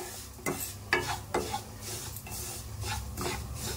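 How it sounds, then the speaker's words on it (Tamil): A spoon stirs rava roasting in ghee and oil in a pan, making soft, faint scraping strokes with a few sharper taps against the metal and a low background sizzle. "கொஞ்சம் வாசம் வர அளவுக்கு வறுத்து எடுத்துக்கலாம்."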